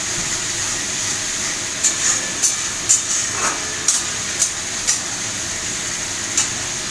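Spice paste cooking with water in a pan, a steady close sizzling hiss with regular sharp scraping strokes of a spatula about every half second, no voices.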